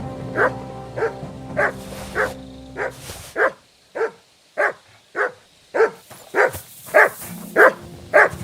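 Mutt the dog in the video game Kingdom Come: Deliverance II barks about a dozen times in a steady series, loud and close, with brief gaps between each bark.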